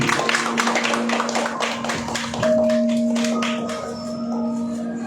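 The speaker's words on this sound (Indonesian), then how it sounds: "Boleh kita beri tepuk tangan yang meriah." Applause from an audience at a poster unveiling, many hands clapping in a dense, steady patter that carries for several seconds, with a sustained tone running underneath.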